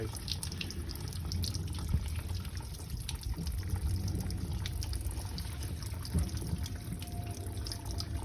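Water from a hose pipe flushing through the pipes of a Lay-Z-Spa inflatable hot tub, a steady close rushing trickle with faint drips that runs on without a break.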